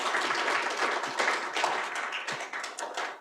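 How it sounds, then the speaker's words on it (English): Audience applause at a conference session, a steady wash of many hands clapping throughout, fairly loud and continuous, tapering slightly toward the end. "So maybe we can give one more round of applause to these guys as well."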